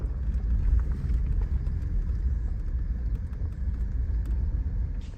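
Car driving slowly through a remote desert community in the Tanami Desert, Northern Territory, heard from inside as a steady low engine and road rumble with no talking.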